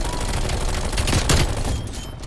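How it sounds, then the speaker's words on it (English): Enemy sentry gun in Call of Duty Cold War rattling off sustained automatic fire, a dense loud burst of gunfire with a couple of heavier cracks midway, steady and close throughout. "Great, they got a sentry gun."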